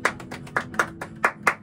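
A few people clapping hands close by in a quick, slightly uneven rhythm, about eight sharp claps in under two seconds with no talking.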